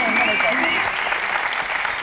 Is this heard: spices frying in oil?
no